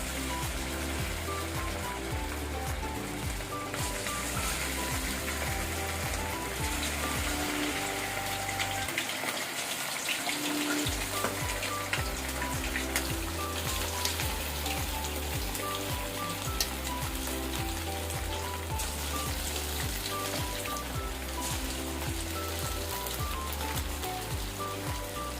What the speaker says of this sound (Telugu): Oil వేడైపోయింది friends. ఇప్పుడు చికెన్ వేసుకుందాము.